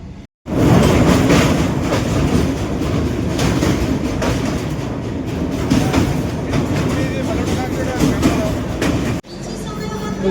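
Vivek Express running into Cuttack Junction in Odisha, a loud, steady rumble of train wagons close by that fills the whole stretch, with a voice talking over it.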